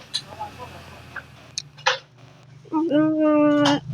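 A kitten gives a drawn-out, rising meow near the end, after some faint scattered noises and a few brief sounds.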